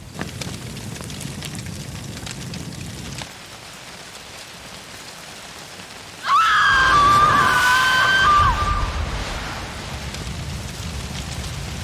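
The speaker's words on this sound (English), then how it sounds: "Why is it so windy when she screams?" In Life is Strange: Before the Storm, steady rain and a low rumble give way to a loud gust of wind as a woman's shrill scream rises over it for a couple of seconds before the storm settles back.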